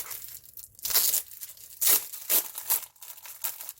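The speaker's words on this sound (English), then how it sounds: "so I'm going to open an unopened pack." Plastic packaging on a pack of craft paper being torn open, several bursts of loud, close crinkling and ripping separated by brief pauses, with no talk.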